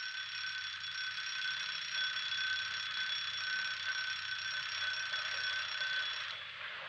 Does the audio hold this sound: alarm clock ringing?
yes